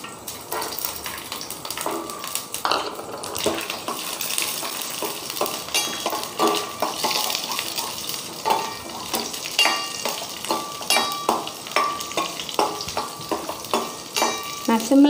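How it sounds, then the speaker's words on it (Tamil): Walnuts and raisins sizzle and fry in hot ghee for a Murungai Keerai payasam, a steady close crackle broken by stirring clicks, with no voices. "இங்கே நெய் விட்டு இந்த வால்நட்டும் திராட்சையும் லைட்டாக நெய்யில் வறுத்துக்கலாம்"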